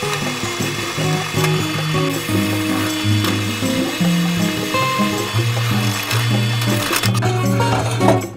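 A drill bores into steel rebar with a worn-out bit, giving a steady, loud grinding and ratcheting churn with shifting pitch that continues for several seconds and then cuts off abruptly.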